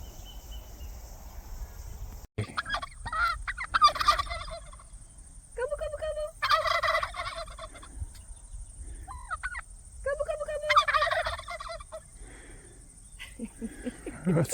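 Turkeys gobble in several loud, rapid bursts, close by, with insects chirping faintly in the quiet gaps between calls.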